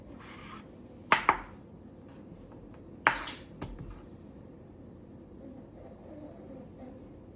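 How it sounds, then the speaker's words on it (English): A knife cuts into a raw deer heart, trimming away fat: a couple of sharp slicing scrapes and a thunk against a board, quiet and close, with faint background hum between strokes. "Probably should use a smaller knife, but we'll get off some of this"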